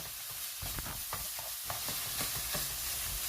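Marinated meat stir-fried in oil with a spatula makes a soft, steady sizzle broken by repeated scraping and tapping of the spatula against the pan, with no talking.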